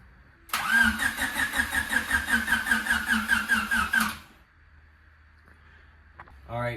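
A car with a blown motor cranks for several seconds in a steady rhythmic churn, catches and runs briefly before cutting out, leaving a quiet lull and a faint noise at the end.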